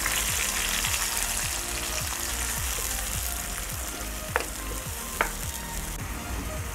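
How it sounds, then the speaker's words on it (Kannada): Onion and green chili paste fries in hot oil for an egg kurma, a constant close sizzle overlaid by rhythmic scraping stirs and two sharp spoon taps, with no one talking. "ಎಣ್ಣೆ ಬಿಸಿ ಆದಮೇಲೆ ಈರುಳ್ಳಿ ಮತ್ತು ಹಸಿಮೆಣಸಿನಕಾಯಿ ಪೇಸ್ಟ್ ಹಾಕ್ತಾಯಿದ್ದೀನಿ ಹಸಿ ವಾಸನೆ ಹೋಗೋವರೆಗೂ ಚೆನ್ನಾಗಿ ಹುರ್ಕೋಬೇಕು"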